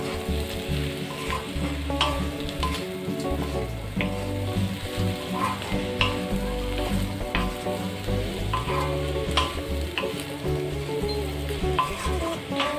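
Sliced bitter gourd and onion roasting in a pan make a continuous sizzle with repeated scraping of a spoon as the pieces are stirred. Faint background music plays throughout.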